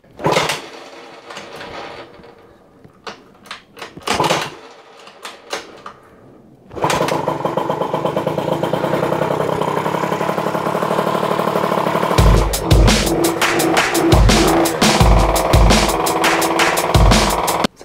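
A moped fitted with an Athena 70cc engine setup is kicked a few times, then fires and runs loud and close, a steady raw two-stroke drone with a few throttle blips near the end.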